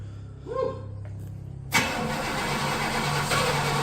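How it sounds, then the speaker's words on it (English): A 1966 Pontiac Catalina wagon's 389 V8 cranks briefly on a newly installed starter, then catches and fires up loudly, settling into a steady rumbling idle nearby. "Hey, it turned over."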